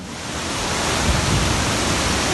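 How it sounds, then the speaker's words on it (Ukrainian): The Probiy waterfall in Yaremche, carrying a lot of water after recent rains, gives a loud, close, continuous rushing roar that swells slightly and holds steady throughout. "О, такий шум води. Це водоспад."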